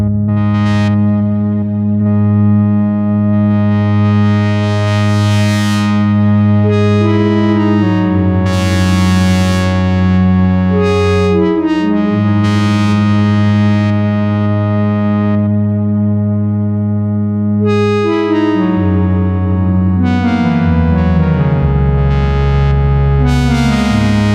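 Dry Sequential Prophet synthesizer with reverb switched off, playing loud sustained harmonic chords and stepping bass notes with filter sweeps opening and closing across the phrases, with no voices over it.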